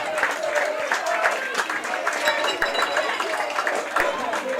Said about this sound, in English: The champions are taking in the applause.